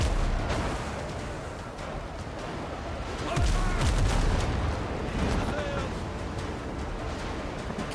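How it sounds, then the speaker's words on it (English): Ship cannons fire in the video game Windrose, booming in a dense, continuous barrage of blasts and rumbles, with a heavier volley midway, loud and sustained over ambient game noise. "Cannon shot there."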